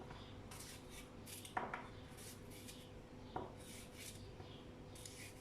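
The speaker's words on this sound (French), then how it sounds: "je vais juste faire de l'avance, couper mes poivrons" A knife slices through bell peppers on a cutting board, with two sharp cuts standing out against a quiet background and faint rubbing and scraping between them.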